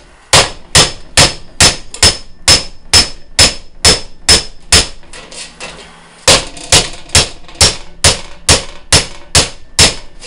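A hammer beats rivet ends flat on a round metal colony trap: about twenty sharp, loud metallic blows in a steady rhythm, with one short pause midway.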